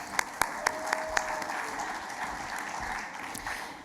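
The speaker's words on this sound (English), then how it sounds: "And let's keep the clapping going." Audience applause at a university graduation ceremony at Wembley, steady and fairly distant. A few sharper individual claps stand out near the start.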